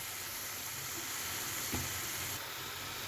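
Carrot halwa cooked in ghee hissing and sizzling softly in a pan, a continuous low simmer with one faint stir knock, close and quiet, no talk.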